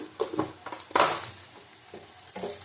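Potatoes frying in a pan for aloo dum sizzle steadily, broken by several close scraping stirs of a spoon, one louder than the rest.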